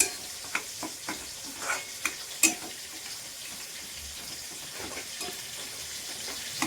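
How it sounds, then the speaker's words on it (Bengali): Red amaranth greens frying with garlic and nigella seeds give a steady sizzle, broken by several sharp clinks and scrapes of stirring, fairly close and moderately quiet with no talking. "যে লাল শাক চাপিয়ে দিয়েছি রসুন ফোড়ন দিয়েছি রসুন আর কালো জিরে"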